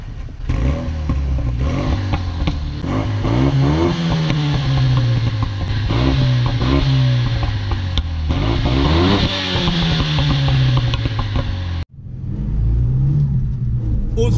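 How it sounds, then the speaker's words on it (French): A Renault Megane 3 RS Trophy fitted with an Akrapovic exhaust revs and accelerates up close, its loud engine rising and falling through several gear pulls, with a brief break near the end before it resumes. "On a fait un petit truc pour qu'on puisse bien entendre le bruit de l'échappement."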